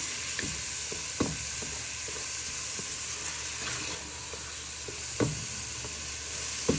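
Eggs frying in a hot pan for pork egg fried rice, a steady close sizzle with occasional soft clicks and taps of stirring, continuous and even throughout without speech.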